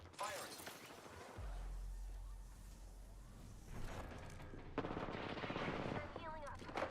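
Quiet video game gunfire crackles in rapid bursts, like automatic weapons, among low mechanical rumbles and faint game sounds.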